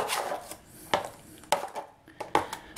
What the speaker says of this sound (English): I've got a 10-inch knife. I sort of work this against the sides of the pan